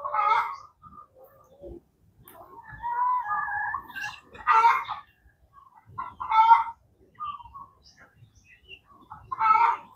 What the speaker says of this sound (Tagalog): Tingnan niyo itong manok na ito.